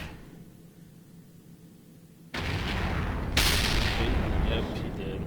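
Two heavy cannon shots from a tank in the World of Tanks video game, an E-75, land about a second apart, each a sudden loud boom that leaves a sustained rumbling roar behind it.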